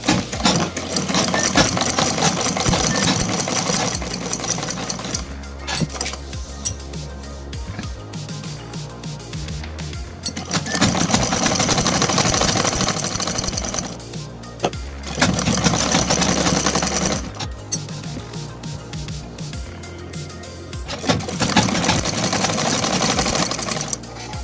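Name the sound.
sewing machine stitching kurta neckline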